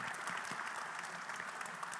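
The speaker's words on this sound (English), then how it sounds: "let's hear your thankful applause for them" Steady audience applause for the partners at the QA: Challenge Accepted 2022 conference, a dense even wash of many hands clapping with no voices on top, holding at one level throughout.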